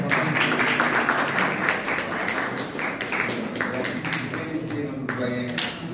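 An audience applauds at a conference on Soninke history, with steady clapping filling the room for several seconds and fading slightly toward the end.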